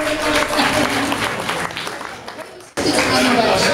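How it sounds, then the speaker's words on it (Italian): An audience claps at a Topo Gigio show, a busy wash of applause mixed with voices that drops out briefly before resuming at full strength. "Ci facciamo un applauso"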